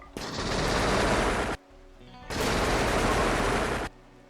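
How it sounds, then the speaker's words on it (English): Auto pistol gunfire in the video game RimWorld comes as two sustained, dense bursts of rapid shots, each lasting over a second, with a short quiet gap between them. "Just an auto pistol gunshot."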